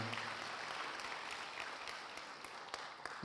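Soft audience applause in a seminary worship gathering hall, fairly quiet and distant, continuous for about three seconds with faint vocal sounds at the end.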